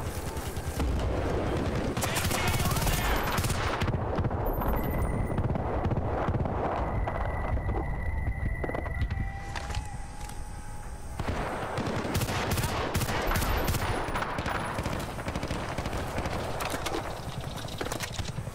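In Bad Company 2 Vietnam, dense rapid gunfire rattles almost continuously, a thick layered barrage of automatic shots that dips briefly in the middle before surging back just as loud.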